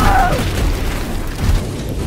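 An RPG-7 rocket explodes in a cartoon with a heavy, booming blast, loud and rumbling low throughout the two seconds, with a brief higher whistle at the start.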